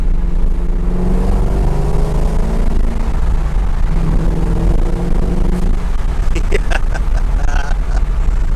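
A 2003 Corvette C5 Z06 runs on its first test drive after repair, a loud steady engine drone with shifting pitch and wind buffeting, then a person whoops and exclaims near the end.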